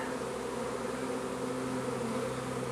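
A honey bee swarm buzzes steadily and densely throughout, a continuous close hum of many bees with no voices.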